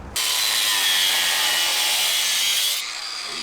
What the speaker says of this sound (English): we're going to cut a slit right there to put our large washer in